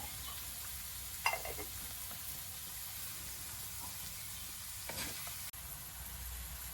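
Onions frying with salt in a pan, a soft, even sizzle heard close but quiet, broken by a couple of faint stirring scrapes.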